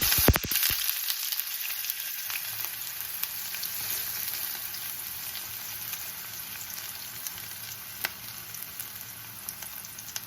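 Fenugreek, mustard seeds and onion pieces sizzle steadily in hot oil in a home kitchen, a close, continuous frying hiss with a sharp crackle at the start.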